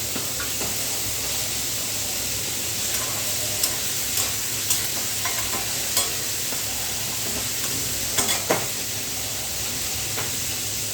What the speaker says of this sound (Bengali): বোয়াল মাছটা বেশি ভাজবো না, হালকা ভাজবো।